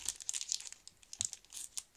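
A label is peeled off a Sizzix craft product, producing a short, close, quiet crinkling and tearing of paper in several small bursts, with no talking.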